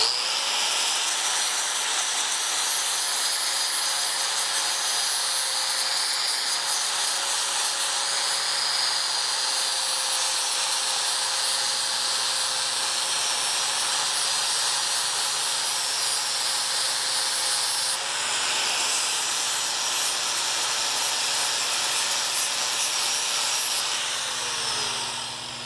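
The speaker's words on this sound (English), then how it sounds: "Let's grind this off right quick." An angle grinder runs continuously for about 25 seconds, grinding built-up material off a shop workpiece with a loud, steady high-pitched whine and slight shifts in pitch, and no talk.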